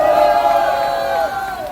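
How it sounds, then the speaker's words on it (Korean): Crowd noise at an outdoor rainy-day press conference and rally, a loud sustained swell of voices and cheering with little distinct clapping, tapering slightly toward the end. "여러분 저들에게 큰 박수 부탁합니다."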